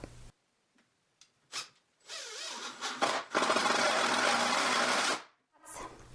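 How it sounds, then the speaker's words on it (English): A power driver whirs in bursts as screws are driven into a wooden bench top: short trigger blips first, then two longer sustained runs of grinding motor, separated by near silence. "I have 3 screws that I'm going to work into the bench top"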